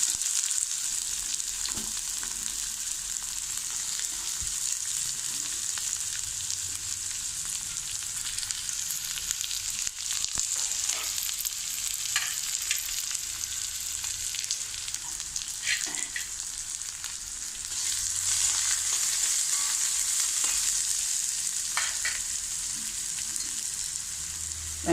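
Chopped onion frying in hot oil with mustard seeds, curry leaves and urad dal while tempering for okra (vendakkai) thoran, a steady close sizzle with faint crackles and occasional stirring clinks throughout.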